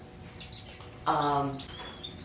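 High, insistent chirping from small birds, repeated in quick bursts like begging chicks, with a brief lower buzzy call partway through.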